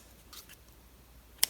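Scissors snip through yarn while finishing a crocheted fox amigurumi bookmark, with soft handling rustles followed by one crisp, close cut at the end.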